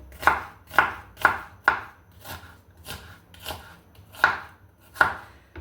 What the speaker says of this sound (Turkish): Soğanı şöyle uzun uzun doğruyorum.